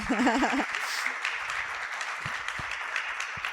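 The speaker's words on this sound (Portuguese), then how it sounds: "Uma salva de palmas, irmã" A church congregation claps during a celebration service, a brief sung or spoken phrase at the start, then a steady moderate round of applause with scattered low thumps.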